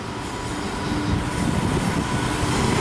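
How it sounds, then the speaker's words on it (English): A diesel freight locomotive and its wagons roll through a station at Manchester Piccadilly, giving a steady, loud rumble of wheels and engine noise that fills the whole stretch without a break. "We've got another freight train coming through."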